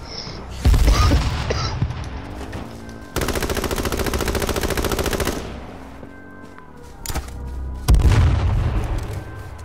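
LMG fire in H1Z1 Battle Royale, loud nearby bursts: a sharp opening burst, a long sustained rattle of rapid shots for about two seconds, then more heavy bursts later, with no talking.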